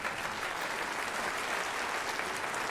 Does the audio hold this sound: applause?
yes